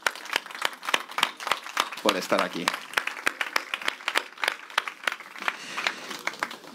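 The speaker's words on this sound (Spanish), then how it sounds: "levantar la mano derecha, levantar la mano izquierda y darnos un fuerte aplauso a nosotros mismos" Scattered clapping from a blockchain conference audience, sharp individual claps in a loose rhythm rather than a full ovation, with a voice talking over them throughout.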